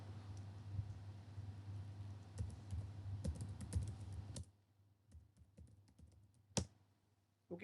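Fingers type on a computer keyboard over a steady low hum: rapid, close key clicks for several seconds, then quieter with a few scattered taps.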